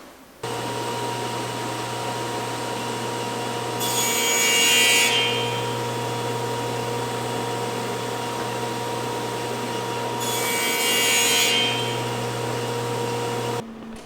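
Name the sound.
saw blade cutting MDF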